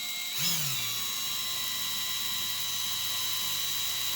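Power drill running continuously, a steady high mechanical whine that spins up just after the start and holds steady, close and loud with no talk.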